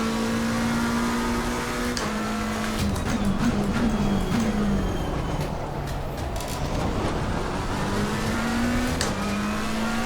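Simulated race car engine from a racing video game played on a Fanatec F1 Esports V2 wheel, a steady droning whine that rises and falls in pitch with speed, continuous and fairly loud throughout with no voices.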